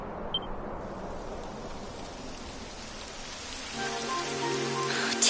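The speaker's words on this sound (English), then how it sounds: "It would have to go and start raining, wouldn't it?" Steady rain falling on surfaces in the video game Dragon Quest XI, a constant dense hiss throughout, joined near the end by a soft sustained musical tone.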